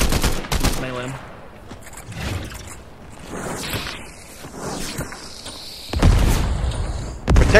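Gunfire in a Fallout video game while wearing T60 power armor, with bursts of rapid shots, booms and mechanical clanks in uneven volleys, a voice talking over parts of it.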